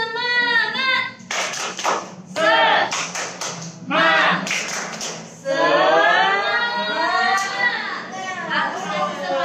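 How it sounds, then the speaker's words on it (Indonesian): A group of children does a rhythmic spirit clap during an online church service, with sharp claps in short patterned bursts mixed with children's voices calling out and chanting. "Kita tepuk semangat dulu ya."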